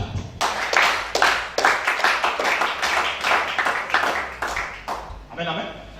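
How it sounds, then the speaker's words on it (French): A church congregation applauding, bursts of clapping rising and falling in loud waves with a preacher's voice speaking over them. "Acclamez ça."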